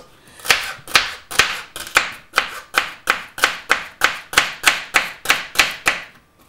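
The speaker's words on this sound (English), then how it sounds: "we'll chop your celery up" A knife chops celery on a cutting board in a steady rhythm, about fourteen crisp, close strikes evenly spaced with nothing else behind them.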